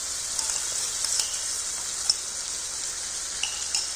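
Paneer and gravy fry in a pan with a steady, bright sizzle like light rain, broken by a few faint pops and spatters, no voices.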